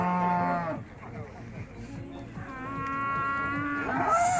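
A young cow lowing at a livestock bazaar in Urzhar, two long, loud, close moos separated by a short pause, with low market noise behind.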